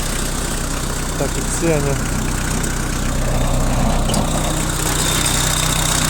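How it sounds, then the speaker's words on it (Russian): A Kubota Saturn X24 compact tractor's four-cylinder engine idles with a steady low, even rumble while someone talks over it nearby. "Мотор, кстати, работает достаточно ровно"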